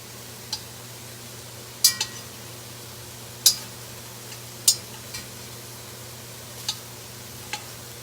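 Swedish meatballs frying in a pan, a faint steady sizzle under sharp intermittent clicks and taps of a utensil as they are turned over, with no talk.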